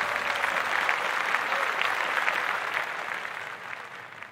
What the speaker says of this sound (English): give that another clap set